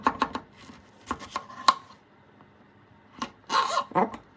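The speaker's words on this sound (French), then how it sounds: "On va déjà couper la courgette En deux." A knife slices a courgette in half on a cutting board, giving a few sharp, close chopping knocks spread through the moment, with quiet gaps between them and no talking.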